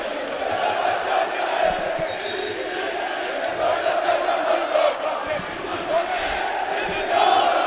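Fenerbahce basketball fans chant together in a packed arena during the 2015-16 EuroLeague third-place game against ZVVZ USK Praha, a dense, steady crowd roar that swells slightly near the end.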